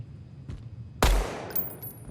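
A loud burst of gunfire at destructible targets in the shooter game Deadrop, one sharp crack followed by a ringing, decaying tail, with a few fainter clicks around it.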